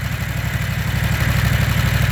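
A 670cc Predator small engine with a 670 carb and no governor idles steadily up close, a fast, even low putter with a faint mechanical rattle and no other sounds.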